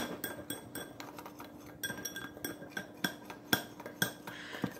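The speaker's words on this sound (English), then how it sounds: "Now you're going to just mix all this together so you can incorporate everything." A utensil clinks and scrapes against a bowl while keto lava cake batter with dark chocolate is mixed, giving a run of close, rhythmic taps with no talk.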